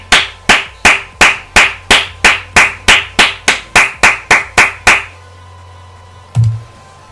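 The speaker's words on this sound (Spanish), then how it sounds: "un aplauso para EA Sports" One person claps hands about fifteen times at an even, brisk pace. The claps are crisp and close, then stop, followed by a single dull thump after a short pause.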